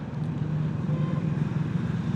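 A Triumph Speed 400 motorcycle engine, suspected of tappet noise, runs with a steady low droning hum and no break, close and moderately loud.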